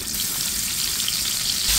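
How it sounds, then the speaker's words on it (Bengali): Tilapia fish sizzling in hot oil in a frying pan, a loud, dense, steady hiss throughout with no pauses. "মাছ ভাজার জন্য ফ্রাই প্যানে তেল দিয়ে দিয়েছি"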